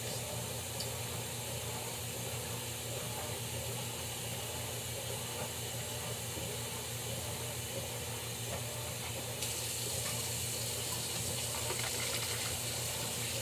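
Water runs steadily into a bucket while homemade laundry detergent is being made, giving a constant hissing, gushing rush that is fairly faint and continuous, with no one talking over it.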